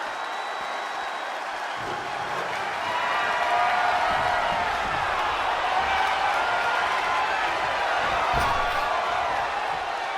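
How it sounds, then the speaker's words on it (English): Arena crowd at an ECW-style wrestling pay-per-view in a video game, a dense wash of cheering and applause that swells midway and stays loud and steady, with a brief thud near the end. "What a raucous crowd here tonight."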